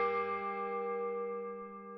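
Single bell stroke rings out alone and rather faint, its steady metallic tone with many overtones slowly decaying over two seconds.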